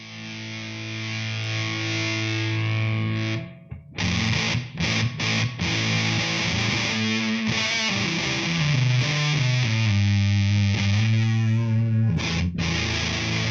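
Electric guitar driven through an MXR Classic 108 Fuzz pedal, a Fuzz Face-style circuit, loud and sustained: a thick distorted chord rings, cuts off, then choppy bursts give way to fuzzy sliding lines and held notes, with no talking.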